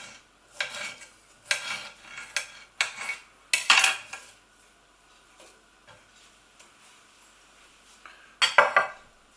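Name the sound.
stirring chopped squash into curry in a pot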